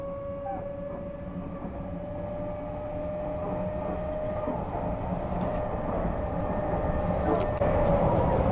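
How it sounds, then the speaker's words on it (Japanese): An Odakyu Romancecar Metro Hakone limited express train accelerating: its electric motor whine holds and climbs in pitch over a constant rolling rumble, growing steadily louder without any talk. "このモーターの音を聞いてください。"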